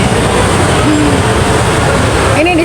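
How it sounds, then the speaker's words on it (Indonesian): A train at Parujakan railway station in Cirebon, a loud continuous rumble close by with faint whining tones rising and falling over it, and a voice speaking briefly near the end. "Ini di stasiun Parujakan."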